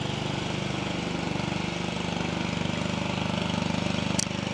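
A neighbor's lawn mower drones steadily and fairly loud through the whole stretch, a continuous engine hum with no talking.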